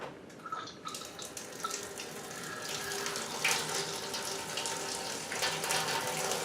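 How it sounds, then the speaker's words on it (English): Hot wort drains from the mash into a brew pot during a batch sparge for a NEIPA, a steady, close rush of running, splashing liquid with a few faint mechanical clicks and no voices. "I'm going to drain all this into the brew pot"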